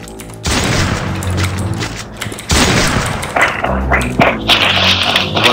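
Bursts of rapid gunfire and heavy booms from the Free Fire battle game crackle loudly in dense volleys, with sharp single shots near the end.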